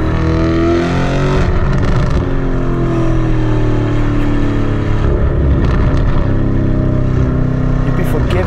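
Lamborghini Urus SUV fitted with a Novitec exhaust drives past, its engine a loud, close, continuous roar that swells and eases as it pulls along, with no voices.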